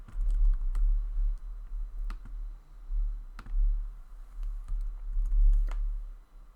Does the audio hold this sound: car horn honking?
no